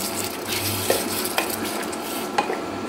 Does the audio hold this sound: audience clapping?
no